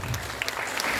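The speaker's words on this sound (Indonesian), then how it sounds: "kasih tepuk tangan buat penampilan tadi nomor urut 17" Audience at an elementary school choir competition in West Jakarta claps in a dense, steady wash of applause, loud and close, lasting about a second with no voices over it.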